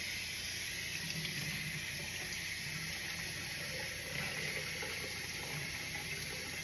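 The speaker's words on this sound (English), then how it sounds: "So we're going to rinse this one." Tap water runs steadily into a sink as a small metal item is rinsed, a constant close hiss and splash with no pauses.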